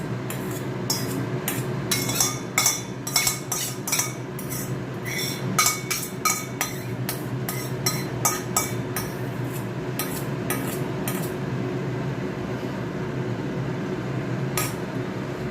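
A metal spoon spreads yogurt over lote fish in a cooking pan, making rapid repeated clinks and scrapes against the pan. The sounds are close and irregular, continue throughout, and thin out toward the end over a steady low kitchen hum.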